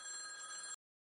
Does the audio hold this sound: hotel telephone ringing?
yes